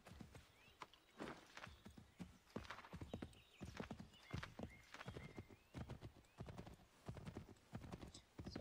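Horse hooves clip-clop in a steady rhythmic gait in the video game Assassin's Creed 3, moderately loud and close, with a brief snort or whinny mixed in.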